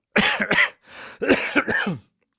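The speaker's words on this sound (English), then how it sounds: "excuse my cough." Two bursts of harsh coughing, close and loud, separated by a brief breathy pause.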